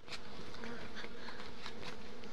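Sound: honeybees buzzing around hives

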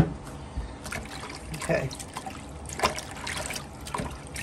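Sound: apple cider vinegar and water poured over greens

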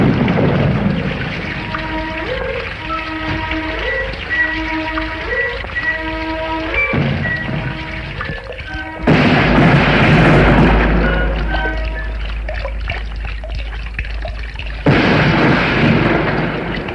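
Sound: British artillery cannon fire and explosions in film

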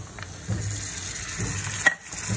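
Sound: marinated minced meat added to frying onions in pan

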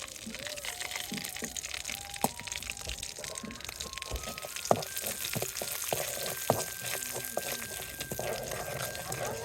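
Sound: panch phoron spices frying in mustard oil in pot

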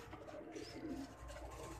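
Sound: pigeon cooing

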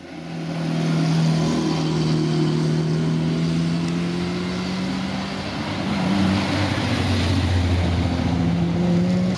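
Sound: vintage cars driving through Fornovo town

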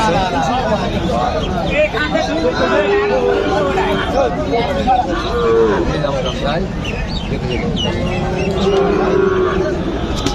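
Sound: cattle at a livestock market

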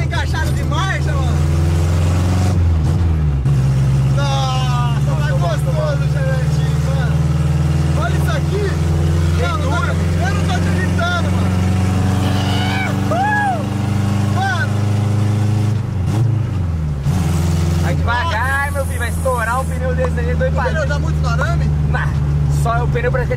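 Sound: Chevrolet Chevette car engine revving, shifting gears

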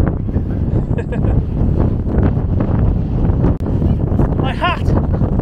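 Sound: strong wind blowing on a hilltop

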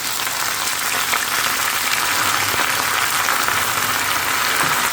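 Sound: jute leaf greens added to frying garlic and onion, sizzling

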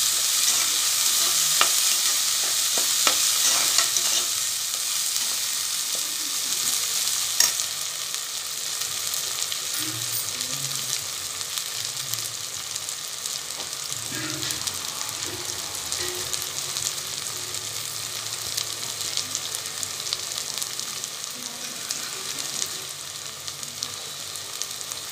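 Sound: ginger garlic paste frying in pan

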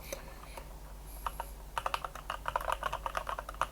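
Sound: typing on AJAZZ AK680 mechanical gaming keyboard

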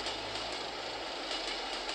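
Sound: Thomas and Friends chugger train driving with drill, from a video game

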